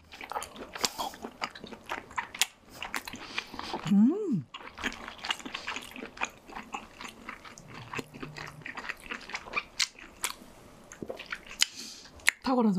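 Spicy king crab being eaten, with crunchy bites and chewing through the hard shell repeated across the whole stretch, close and fairly loud, mixed with short exclamations from a voice.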